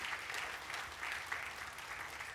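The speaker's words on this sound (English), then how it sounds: "let's have a big round of applause for GFI who's put together the Smart Protein Summit" An audience at the Smart Protein Summit applauds GFI India, a steady, fairly soft patter of many hands clapping at once that continues without a break.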